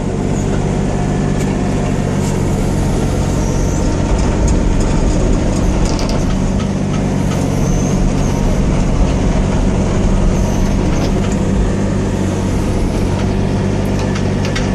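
A Hitachi ZX35U mini excavator runs continuously nearby, its steady engine drone and hydraulic rumble holding loud and even throughout, with no voices.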